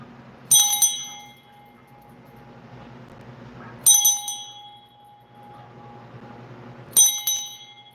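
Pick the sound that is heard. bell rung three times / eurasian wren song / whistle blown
bell rung three times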